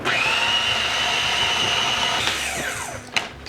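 A food processor whirls a falafel mixture in one loud, steady motor drone that runs nearly the whole clip, its whine dropping as the blade winds down near the end, followed by a couple of brief knocks.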